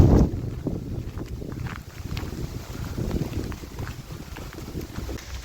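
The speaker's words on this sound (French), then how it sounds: "Et là, un vent froid s'est levé" Cold wind gusting over the microphone outdoors on a pilgrimage hiking trail, a continuous low buffeting rumble that swells and eases for several seconds, with no talking.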